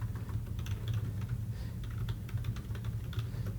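Keys clack in a steady, rapid run on a computer keyboard as a prompt is typed, close and clear, with a low steady hum beneath and no voices.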